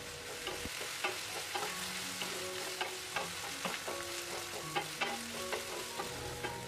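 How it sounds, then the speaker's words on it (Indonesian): Spice paste with lime leaves and lemongrass is stir-fried for tuna rica rica, giving a steady close sizzle with repeated spatula scrapes and clicks against the pan throughout. "Kemudian aduk-aduk dan tumis bumbunya sampai wangi, sampai matang, sampai terlihat seperti mengeluarkan minyak."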